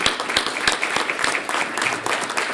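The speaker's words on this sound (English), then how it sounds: "I'd like a round of applause for all the children in our district." Audience applause for schoolchildren at a district school board meeting, a steady dense patter of many hands clapping for a few seconds.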